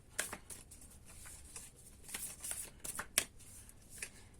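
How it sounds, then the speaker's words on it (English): Tarot cards being shuffled up close, a series of quick soft riffles and slaps in an uneven rhythm, fairly quiet with no talking. "So let's continue to shuffle."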